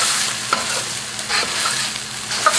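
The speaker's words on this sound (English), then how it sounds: "Now, this is the chili and the shallot, okay, turmeric and the diced tomatoes, and I'm going to heat this up" Chili, shallot, turmeric and diced tomatoes stir-frying in a hot wok, a loud dense sizzle and hiss with scraping and tossing pulses, close up and without talk.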